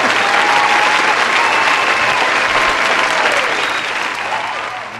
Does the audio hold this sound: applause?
yes